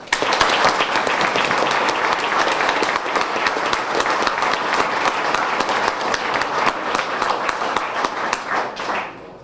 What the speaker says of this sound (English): So I would like to give them all a round of applause, please.